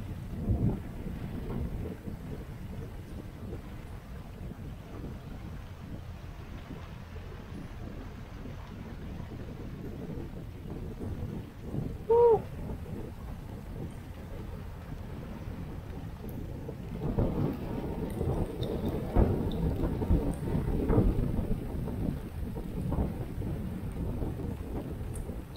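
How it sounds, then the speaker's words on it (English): Steady rain pours throughout with low rumbling thunder from a thunderstorm at a campsite, swelling louder toward the end amid gusty wind noise. "Check this out, guys. Oh, what a storm."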